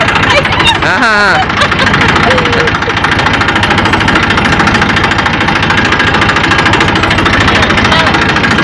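Eicher 480 tractor engine running steadily while ploughing a potato field, a loud, constant rumbling drone throughout, with voices talking briefly over it.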